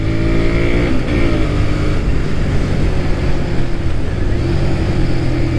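A Honda VTR 250 motorcycle engine revving hard and continuously, loud and close, with a rising and steady buzzing drone as it accelerates.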